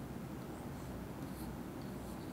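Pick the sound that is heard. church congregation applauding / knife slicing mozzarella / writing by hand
writing by hand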